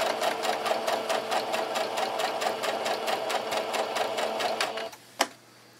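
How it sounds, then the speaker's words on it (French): A sewing machine stitches elastic onto a homemade fabric face mask, a rapid, even rattle of needle strokes sewing forward and backward, close and steady, ending with a stop and a sharp click. "on vient coudre en droit, envers, enfin en avant, en arrière"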